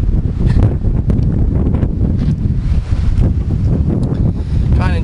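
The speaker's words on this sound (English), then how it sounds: "it's very windy" Strong wind buffets the microphone continuously, a loud, rough rumbling roar with gusty fluctuations throughout.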